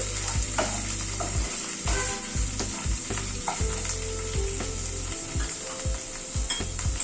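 Spices with half a teaspoon of ginger paste sautéing in a pan for a paneer curry, a steady close sizzle with frequent knocks and scrapes of a spoon stirring against the pan, no talking.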